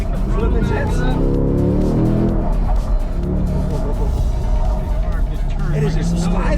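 A 2021 Corvette C8 slides through a turn on a hot lap in a convention center parking lot, its engine roaring loud and steady with a rasp of tire scrub, while people talk excitedly inside the car over the noise.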